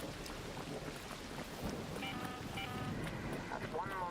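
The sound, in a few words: thunder of a lightning storm in video game ARC Raiders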